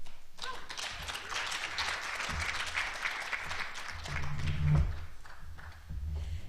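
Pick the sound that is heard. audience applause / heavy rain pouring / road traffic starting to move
audience applause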